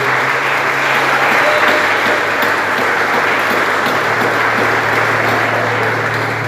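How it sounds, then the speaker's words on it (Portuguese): A church congregation applauds in praise of Jesus, a steady, loud wash of many hands clapping at once that continues without a break, with a low sustained tone underneath. "Se você recebe essa palavra, aplauda ao nome do Senhor Jesus"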